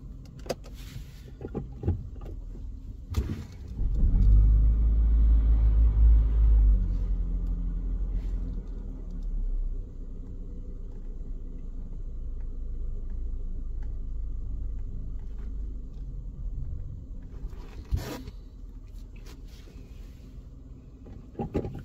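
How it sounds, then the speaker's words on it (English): A Volkswagen car drives forward on a street at night, giving a steady low engine rumble with a heavier surge early on, then a lighter, even drone and a few brief knocks and clicks. "Right, now I'm going to drive forward again."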